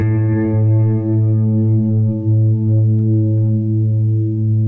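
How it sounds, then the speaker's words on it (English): A sustained, harmonically rich guitar tone washed in lush reverb from a DigiTech Polara stereo reverb pedal, ringing steadily and spreading wide without breaks, alone with no voices. "So the reverb has more reverberation bouncing off of more surfaces."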